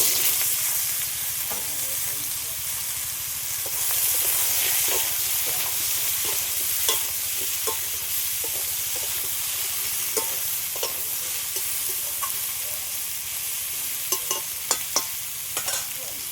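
Small pieces of chopped ridge gourd sizzling in oil left from frying fish, with a continuous hiss and frequent scraping and tapping as the pan is stirred, close and loud.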